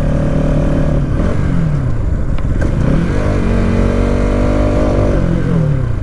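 A Bajaj Pulsar NS200 motorcycle engine runs loud and close as it nears empty fuel, its pitch dipping and surging in uneven jerks rather than holding a steady drone.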